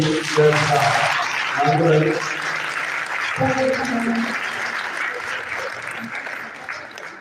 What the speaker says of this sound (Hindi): अगर अच्छी लगी तो जोरदार तालियों से